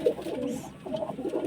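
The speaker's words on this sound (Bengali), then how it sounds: "এটা হচ্ছে আমার পায়রা।" Domestic pigeons kept and sold by a fancier, among breeds such as Kalangar and Madrasi, coo close by in three soft, throaty bursts of rolling, bubbling calls separated by brief pauses.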